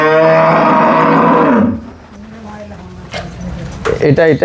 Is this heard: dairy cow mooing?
yes